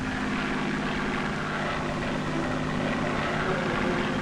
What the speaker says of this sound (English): Down the plane drops to 800 feet.